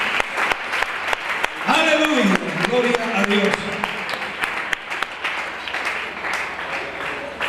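A church congregation applauds to the Lord during a sermon, with a burst of sharp claps at first, then sustained clapping under a preacher's voice calling out praise.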